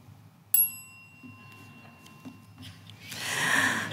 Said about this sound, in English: I will be keeping them to time very strictly with this bell.